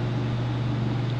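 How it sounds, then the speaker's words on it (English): Heater running in a garage, a steady low mechanical hum with a broad airy whoosh over it, constant and moderately loud with no talking. "Well, sorry for the heater noise"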